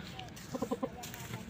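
A chicken being held and shown off, giving a quick burst of four or five short clucks close by, a brief tight rhythmic run against a quiet background.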